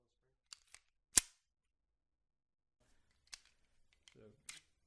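Handling a Springfield Armory 1911 lightweight pistol with a heavy recoil spring: a few sharp isolated metallic clicks and one crisp snap, close and otherwise quiet, with a faint noise near the end.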